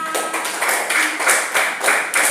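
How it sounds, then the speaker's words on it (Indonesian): A small classroom group claps in a rhythmic unison pattern, about eight close, bright bursts of hand claps in quick succession. "Tepuk tangan untuk Mbak Salma."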